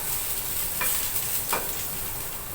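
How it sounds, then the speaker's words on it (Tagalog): Ginger frying in a pan for igado, a steady bright sizzle with a couple of soft scraping strokes as it is stirred close by. "haluhaluin ko lang hanggang sa lumabas yung aroma ng loya"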